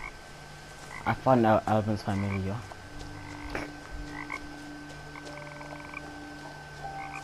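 Frogs croak quietly and repeatedly in the video game What Remains of Edith Finch, while someone talks briefly early on and the croaking carries on faintly afterward.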